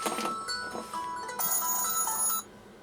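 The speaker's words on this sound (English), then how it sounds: "and there goes my phone" A mobile phone rings with a bright electronic melody, repeating tones for about two and a half seconds before stopping abruptly, fairly clear in a quiet room.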